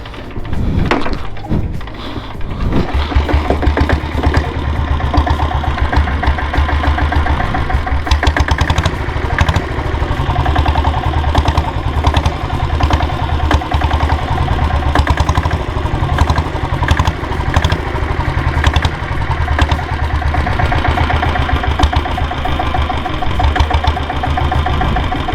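A 1998 diesel Royal Enfield Bullet motorcycle engine idles loud and close after a brief start-up, with a steady low thudding beat that runs unbroken for the whole stretch.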